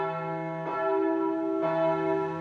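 Church bells ring out in two resonant strikes, each leaving a long humming decay, loud and clear with no other sounds.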